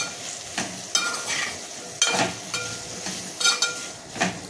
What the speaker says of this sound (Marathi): मी एक छोटा चमचा बेसन टाकून घेते आणि आपल्याला ते परतून घ्यायचे